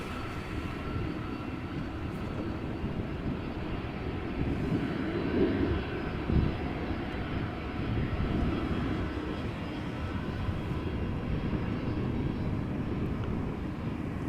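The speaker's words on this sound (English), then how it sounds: "you guys can see in the far right, EasyJet taxiing to the threshold" An EasyJet airliner taxis toward the runway threshold at Amsterdam Schiphol, its engines giving a continuous, fairly distant roar and rumble that holds steady throughout, with no voices.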